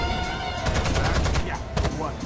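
Rapid automatic gunfire in the video game Rainbow Six Vegas, a dense, loud burst of shots in quick rhythm with a short pause and more firing, heavy low-end booms under it.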